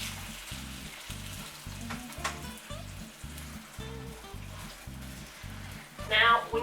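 Two pounds of ground beef fry in a pan for lasagna, giving a soft, steady sizzle with a regular low pulsing beneath it and a brief louder crackle near the end.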